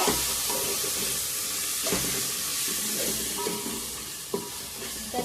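Spices, biryani masala, coriander powder, turmeric, black masala and curd stirred and roasted together in a pan, with a steady sizzle and occasional scraping stirs throughout.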